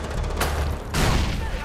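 A grenade blast in the Far Cry 4 game: a sharp broadband burst partway through, followed by a second louder, rumbling explosion that rolls on with debris-like noise, close and loud, with a voice talking over it.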